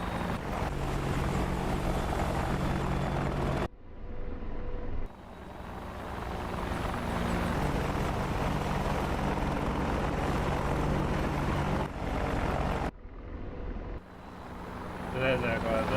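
AH-64D Apache attack helicopter in the DCS combat flight simulator, departing an airfield: a steady, loud rotor and turbine drone runs throughout, with brief dips, under occasional talk.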